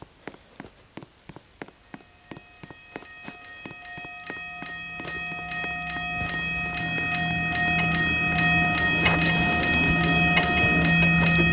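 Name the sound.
train passing a crossing in video game Railway Crossing Creator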